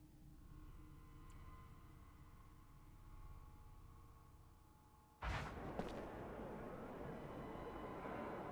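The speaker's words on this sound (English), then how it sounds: "strange explosion." Explosion in the video game Mars: War Logs, a sudden loud boom bursting out of quiet background hum about midway and followed by a sustained roaring rumble.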